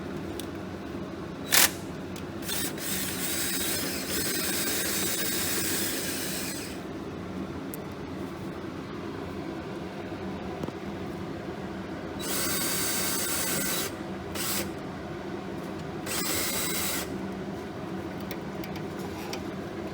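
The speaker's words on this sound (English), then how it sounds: "just go ahead and use that cordless drill" A cordless drill turns over a Nissan 3.5 L V6 engine in an Altima during a timing chain job. It gives a long whirring run, then two shorter bursts, over a steady background with no talking.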